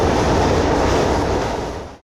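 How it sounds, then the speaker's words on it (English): A metro train on the North Korean subway rumbles steadily from inside the carriage, loud and continuous, before cutting off abruptly at the end. "We boarded another train."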